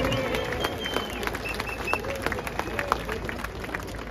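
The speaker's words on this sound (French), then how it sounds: "c'est vous qui nous applaudissez" An outdoor crowd at a Résistance rally on Place des Victoires in Paris claps in scattered bursts, with voices and babble mixed in around the applause.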